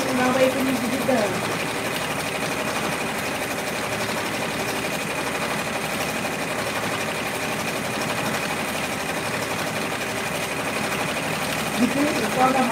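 An embroidery machine stitches a patch, a close, loud, continuous mechanical whirring and rapid needle rattle that runs steadily throughout, with a person talking faintly at times.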